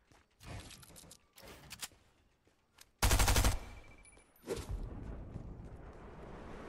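Bursts of gunfire from a Fortnite match, a short burst early on then a loud, dense volley around the middle, followed by scattered shots and game noise.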